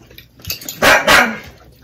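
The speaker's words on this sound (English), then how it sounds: "While our dog is barking" A dog gives two loud, close barks in quick succession, standing clearly above a quiet background.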